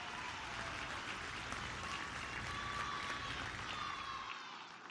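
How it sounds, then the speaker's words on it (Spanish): Steady, moderately distant applause from an audience at an event marking the start of construction on a new IMSS hospital in Culiacán, Sinaloa, sustained clapping filling the whole span without speech. "Un gran aplauso."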